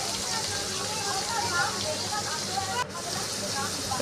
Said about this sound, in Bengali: এবার চিংড়ি মাছটা ভেজে নিচ্ছি।